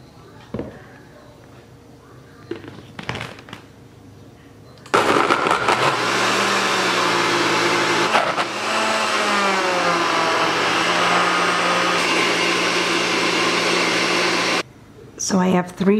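A blender whirs loudly and steadily for about ten seconds, pureeing frozen banana chunks with heavy whipping cream, its motor pitch wavering as the mixture thickens. Brief handling noises and talk come before and after it.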